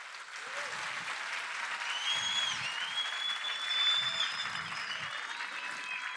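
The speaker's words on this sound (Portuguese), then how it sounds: "Se vocês não derem uma salva de palmas super forte, eu vou embora" During a marketing talk, an audience breaks into sustained, even applause that holds at a steady level throughout, with faint whistles or cheers rising over the dense clapping.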